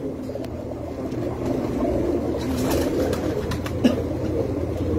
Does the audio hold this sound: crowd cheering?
no